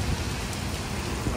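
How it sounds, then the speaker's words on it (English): Thick, heavy rain pours down during Hurricane Milton as a dense, constant loud hiss with no break. "Thick, heavy rain."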